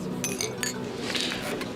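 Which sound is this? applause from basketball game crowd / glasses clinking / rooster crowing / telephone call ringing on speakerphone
glasses clinking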